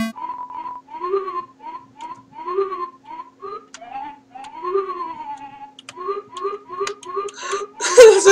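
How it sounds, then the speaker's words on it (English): Slide whistle in the Undertale video game, playing a bouncy run of short rising and falling swoops, clear and steady for several seconds before a brief noisy burst at the end. "Someone's playing the slide whistle"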